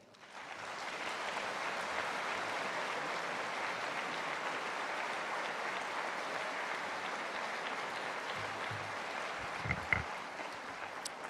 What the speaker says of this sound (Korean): 목사님 나오실 때 박수로 환영하겠습니다.